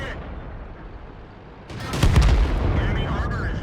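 A single heavy boom from a tank gun firing in a World of Tanks battle, rising sharply out of steady game rumble with a voice talking under it.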